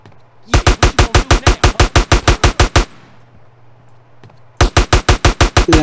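Machine gun fire in GTA San Andreas rattles in two loud, rapid bursts of evenly spaced shots, the first lasting about two seconds, then a pause with a low hum before a second burst.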